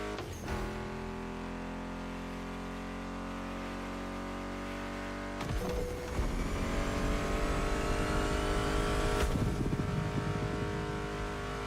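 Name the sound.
car engines racing in The Crew Motorfest video game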